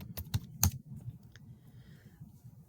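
Keys clicking on a computer keyboard as a search is typed in, a quick irregular run of soft, close taps with a few sharper strokes, faint and without talk.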